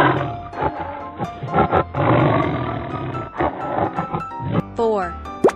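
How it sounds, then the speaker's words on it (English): A tiger roars from a children's wild animal game, a loud, rough growling roar that swells and fades in bursts over a music bed, ending with a short bright jingle. "Tiger."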